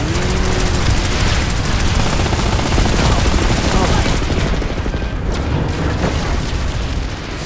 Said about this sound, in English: Mines killed me